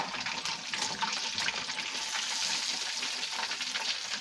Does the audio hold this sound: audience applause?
no